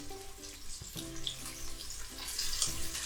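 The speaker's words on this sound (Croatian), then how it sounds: "Dok nam se meso prži" Flour-dredged chicken pieces fry in a Cook4me multicooker, giving a soft, steady hiss with some watery bubbling and a few clinks, heard up close at moderate volume without speech.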